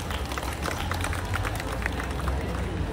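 An audience at a teen center inauguration at a high school in Iloilo claps in a dense, continuous round of applause lasting the whole moment, with a few cheers mixed in.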